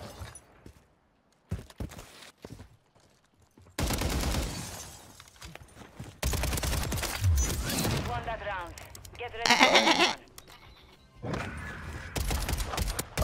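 Gunfire in a shooter video game comes in loud, close bursts of rapid shots separated by quieter gaps, with a few single sharp cracks and some low talk in between.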